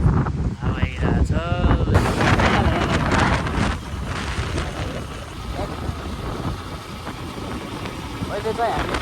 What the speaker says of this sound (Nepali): हावा आइरहेछ